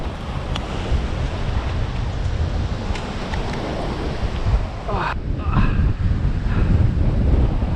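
Strong wind buffeting the microphone on a rocky coast during rock fishing, a steady loud broadband roar with surf mixed in and brief voice sounds near the end.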